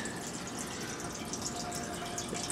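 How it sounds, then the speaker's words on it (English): Dark homebrew ale siphons from a fermenter through a tube, a soft continuous trickle and gurgle of flowing liquid, faint and steady with no talking. "as it begins to siphon, I'll just tilt it to get as much out of there as I can until the end"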